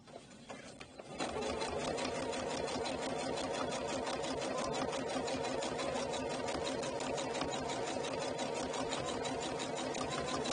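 A sewing machine stitches steadily along a convex curve, its fast even needle chatter running continuously after a brief softer start.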